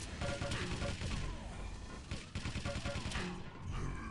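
Dense, continuous weapon fire from a plasma gun and a machine gun in a Quake team deathmatch match, a rapid rattling barrage that barely lets up, with a commentator talking over the din.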